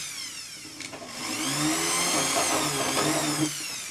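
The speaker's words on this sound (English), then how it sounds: "And drill all the way through." A jewelry handpiece with a waxed 1 mm drill bit bores through a stone for a gypsy setting, giving a steady high whine that rises and holds for a few seconds, close and fairly loud, with no talking.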